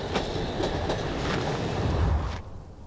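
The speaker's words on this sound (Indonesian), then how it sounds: "Kereta api ini ke mana?" A passing train rumbles close by with rhythmic clickety-clack wheel beats over a loud steady roar, cutting off abruptly near the end.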